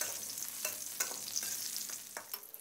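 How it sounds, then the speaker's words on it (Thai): Dried chilies, shallots and garlic are dry-roasted and stirred in a pan, giving a soft continuous sizzle broken by light scraping taps of the utensil, close by and with no voices. "แล้วก็ให้เราคั่วทุกอย่างให้สุกดีเลยนะครับเพื่อนๆ"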